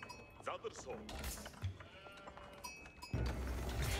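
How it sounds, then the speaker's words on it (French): Sheep bleating in the real-time strategy game Age of Empires IV, a few short bleats mixed with game sound effects, followed by a louder burst of broadband noise near the end. "on pourrait parler du mouton qui follow pas"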